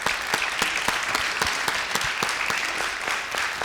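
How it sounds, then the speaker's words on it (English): A theater audience claps in dense, steady applause, a crowd of hands close and fairly loud for several seconds with no voices over it. "I want to give you a round of applause"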